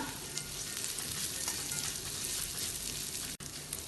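Fried peanuts and potato being stirred together in a hot frying pan for kanda poha, a steady, close crackling sizzle filling the whole stretch with one brief gap near the end.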